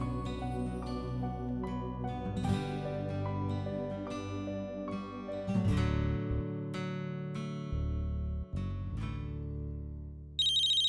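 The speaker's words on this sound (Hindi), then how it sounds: "फोन आया।" A phone ringtone plays continuously, a bright electronic melody with repeating notes, loud and close, with no voices.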